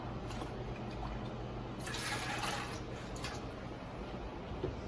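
Vegetable broth pours into a soup pot in a short liquid rush over a steady low hum, close by and without talk.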